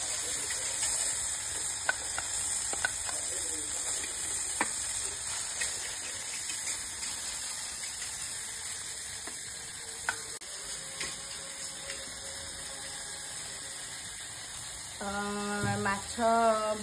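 Small fish fry in a pan on a stove with a steady low sizzle and crackle throughout, faint ticking pops scattered across, and a brief tonal clatter near the end.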